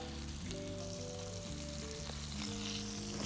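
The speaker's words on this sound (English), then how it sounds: "Great caramelization, great hard sear on the outside." Tomahawk steak searing in a pan on a Wolf induction cooktop, giving a steady, moderately faint sizzle under sustained background music.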